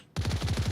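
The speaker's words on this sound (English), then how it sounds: "More gunshots." Rapid automatic gunfire in the VR shooter Onward during a competitive league match, a burst of about seven evenly spaced loud shots starting abruptly after a brief quiet moment.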